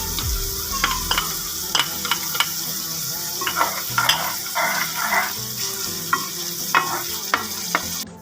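Cream is stirred into sizzling masala for daal mash, with a constant close frying hiss broken by repeated scraping strokes of a spoon against the pan.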